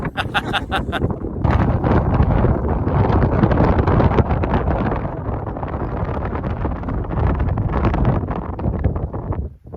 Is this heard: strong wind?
yes